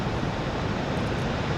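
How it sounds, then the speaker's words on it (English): Steady, dense rush of a waterfall in Namibia, a continuous broadband roar with no breaks or other sounds. "I've been sitting here since 5:30 alone, listening to the waterfall"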